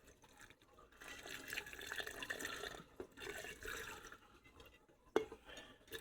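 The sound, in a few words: soaking water poured with stones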